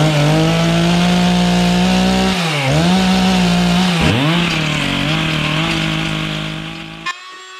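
Chainsaw notching a wooden post, a loud close buzzing whine that holds steady, bogs down twice as the chain bites into the wood, then revs back up before cutting off.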